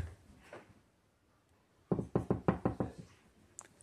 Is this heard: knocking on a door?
yes